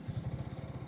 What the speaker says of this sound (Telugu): సో ఇది మనకి ఐడ్లింగ్లో సౌండ్ అన్నమాట.